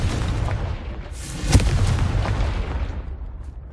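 A Confringo blast spell in Hogwarts Legacy on PS5 goes off as a single loud, booming explosion midway, with a rumbling roar around it that fades toward the end.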